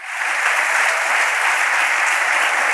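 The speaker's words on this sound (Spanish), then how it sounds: "denle un aplauso bien fuerte al Rey bendito" A church congregation claps loudly and steadily at a sermon, a thick, unbroken roar of many hands that swells quickly and holds at full strength.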